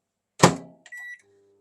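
A microwave oven warming white chocolate in a glass bowl: a sharp door thunk, then a short electronic beep and a low steady hum as the oven starts, all close and clear with no talk.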